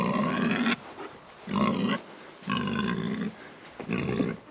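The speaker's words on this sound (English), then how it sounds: "I'm sneaking up on my lover pigs here." Pigs on a homestead grunt in four loud, close bursts of rough, throaty sound, separated by short pauses.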